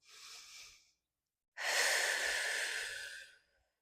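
Deep breathing during a resistance-band mat exercise: a short inhale, a pause, then a long audible exhale, close and soft, no talking.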